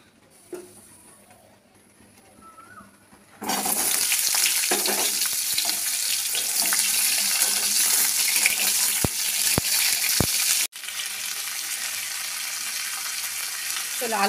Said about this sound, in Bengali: চলো আলু পটল ভেজে নিয়েছি